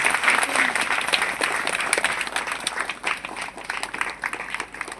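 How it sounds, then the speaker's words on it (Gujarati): An audience claps loudly and steadily to welcome a swami onto the stage during an Akhand Harinam week at a Hanuman temple in Motachrya, Ahwa, Dang, with a voice speaking over the applause. "જરાક જોર લગાવીને તાળીઓ પાડીએ"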